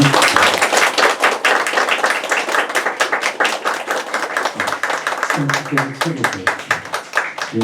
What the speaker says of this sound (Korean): 박수로 하나님 앞에 영광을 드리겠습니다.